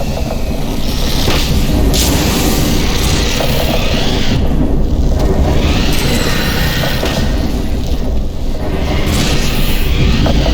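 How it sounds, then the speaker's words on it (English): A Vortigaunt's dispel attack bursts in Half-Life 2: Episode 2, a dense radial blast amid continuous loud booming, whooshing and mechanical game noise that stays intense and steady for about ten seconds. "Vortigon's Dispel Attack is a radial explosion that takes out a swarm of antlions"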